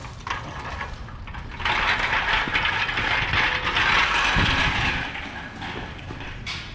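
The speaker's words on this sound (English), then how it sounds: "Let's see if this thing still rolls." An old wheeled cart with a damaged wheel rolls through an abandoned mill, a loud, rough rattling and grinding roll that builds after a quiet start, holds for a few seconds, then fades away.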